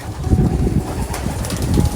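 Soft, low cooing of Wim Muller racing pigeons in an aviary fills the space, several birds murmuring together in a steady, close, overlapping drone.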